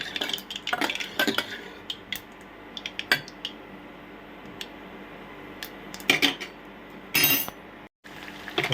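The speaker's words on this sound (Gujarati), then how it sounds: "જીરું નાખી દીધું મીઠો લીમડો રાય જીરું મીઠો લીમડો નાખી દીધો થોડીક હલાવવાની" Cumin, mustard seeds and curry leaves are tempered in hot oil and stirred, giving a light background sizzle under repeated sharp clinks of a spoon scraping and tapping the pan, with a short pause before the final scrapes.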